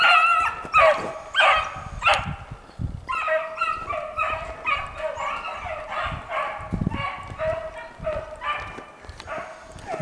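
A pack of hounds chasing a hare bays and barks in repeated, ringing bursts, some voices close and others farther off. The cries overlap irregularly across the whole stretch, with brief whimpering yips between them.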